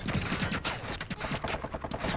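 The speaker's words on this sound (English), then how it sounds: "Where is this guy shooting from?" Rapid bursts of automatic gunfire in a shooter video game, loud and dense, with overlapping shots rattling almost continuously through the moment.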